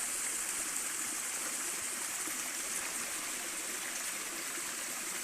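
A small river stream flows in a steady, even rush of water, alone and moderately faint.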